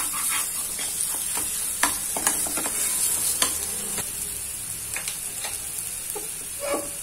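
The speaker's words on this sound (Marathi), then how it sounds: "थोडं अजून तेल घालते, छान परतल्या गेलं पाहिजे हे." Sambar wadi frying in oil, a steady close sizzle punctuated by scraping clinks of a spoon stirring against the pan, with no talk.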